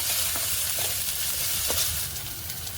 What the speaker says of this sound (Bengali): সব মশলাটা ভালো করে একটু কষিয়ে নেব